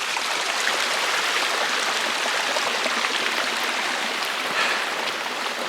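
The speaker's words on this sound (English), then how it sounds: "Walking by this beautiful creek." Steady rushing of a mountain creek on Mount San Gorgonio, Southern California, a constant broadband wash of water over rocks, close and fairly loud, with no voices.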